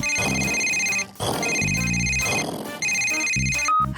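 A telephone rings in a cartoon scene as a call is placed to a vehicle service station about a broken-down vehicle, a loud electronic ringtone repeating in steady bursts with short gaps.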